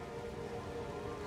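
Steady rain falls across a burning city in Diablo 4, a continuous dense hiss with a faint rumble beneath, constant and close with no voices.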